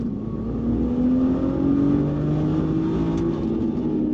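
A Lamborghini launches hard from a standstill at about 2,500 rpm with heavy wheel spin, its engine roaring loudly and steadily with a rising pitch throughout, close and continuous with no talking.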